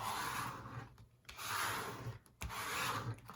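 Stiff paper file folder being folded and creased by hand, close-up rubbing and scraping strokes in three long passes with brief pauses between them, no talking.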